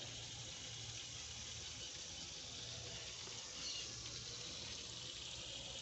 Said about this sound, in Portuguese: Agora eu vou enxaguar ele.